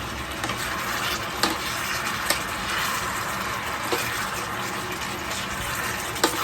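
Pork and kimchi being stir-fried in a pan, giving a continuous close sizzle with scraping stirs and occasional sharp clacks of the utensil, without speech.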